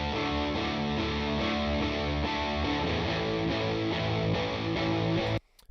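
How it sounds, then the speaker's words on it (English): Thick, layered distorted electric guitar from a Strat through a Big Muff fuzz pedal, sustained chords ringing loud and steady before cutting off abruptly near the end. "that's where the tones really stack and layer together and create that really big guitar tone"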